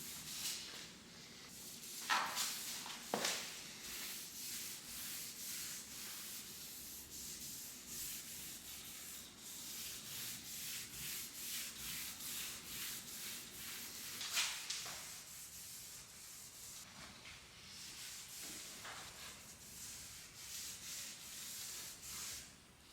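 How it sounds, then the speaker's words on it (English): A staining pad rubs wood stain onto a thrifted 1980s fluted coffee table, giving soft, close, repeated swishing strokes with a few louder scrubbing passes and no talking. "I'm using a staining pad to apply this"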